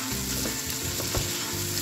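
Finely chopped tomatoes frying in hot masala, a steady loud sizzle with some stirring, heard close up and alone without any talk.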